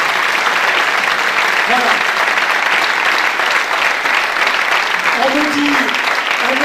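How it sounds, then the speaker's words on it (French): Audience applause fills a theatre hall, a dense, steady wash of clapping throughout, with a couple of brief spoken words over it. "Les techniciens, les comédiens et moi-même, nous applaudissons de votre participation"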